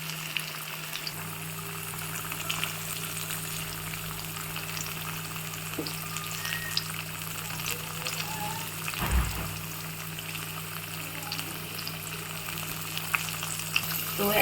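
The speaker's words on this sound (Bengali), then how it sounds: "তো একদিকটা আলুটা ভাজা হয়ে গেছে" Potatoes frying in hot oil in a pan, seasoned with salt and turmeric: an even, steady sizzle like light rain, close and soft throughout, with one brief low thud midway.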